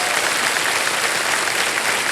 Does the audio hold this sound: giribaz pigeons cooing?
no